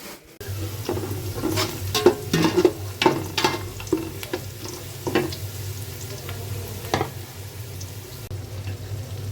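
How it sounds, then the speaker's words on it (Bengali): Green chillies, onion and tomato fry in a pot for a winter-vegetable khichuri, a close steady sizzle broken by repeated scraping stirs, busiest early and settling toward the end. "এখানে হচ্ছে কাঁচামরিচ, পেঁয়াজ, টমেটো কেটে নিয়েছি, দিয়ে বসিয়ে দিব"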